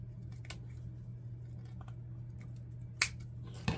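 Scissors snip through wreath ribbon to cut a bow tail, a couple of short sharp cuts, close and quiet over a steady low hum.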